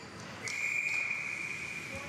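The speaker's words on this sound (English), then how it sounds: "Whistle." A referee's whistle at a high school hockey game, one long shrill blast that stays steady for about a second and a half over the arena's crowd murmur and PA chatter.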